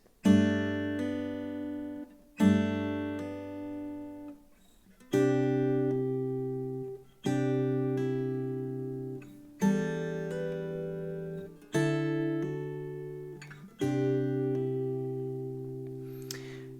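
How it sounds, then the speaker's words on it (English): Fingerstyle guitar chords ring out one after another, about seven in a steady slow rhythm, each with a quick hammer-on from the 9th to the 3rd that rises before it decays. "I'll add a beautiful hammer on between the 9th and the 3rd of each chord"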